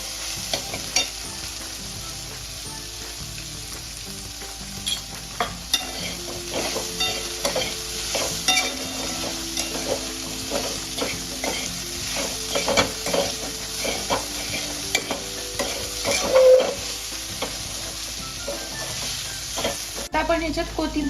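Okra (bhindi) is stir-fried in a pan, a continuous close sizzle with frequent rhythmic scraping and clinking of the spatula throughout, no voices.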